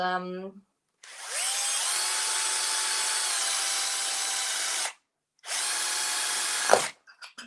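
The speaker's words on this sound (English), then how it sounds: "I've just got like this little like drill, and I'm just going to place it right in the middle." A small power drill whines steadily in two bursts as it drills through a glass jar, close and fairly loud, with a brief pause and a short scrape at the end.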